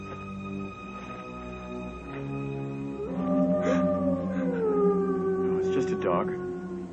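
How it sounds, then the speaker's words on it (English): A dog howls in the distance in open country, a long rising and falling wail over steady background noise. "Dog."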